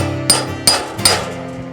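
Three sharp metallic hammer taps on a cold chisel cutting through wire remesh, evenly spaced and ringing briefly, close by with no talking.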